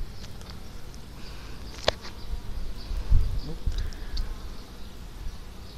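Honeybees buzz around an open beehive during an inspection, a soft, steady hum with a few louder passes as individual bees fly close.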